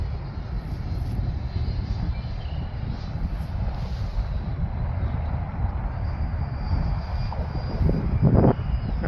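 An FMS F-86 Sabre 80mm electric ducted-fan RC model jet flies overhead on a windy day, giving a steady, fairly loud whooshing roar that holds throughout with a slight swell near the end, with no voices.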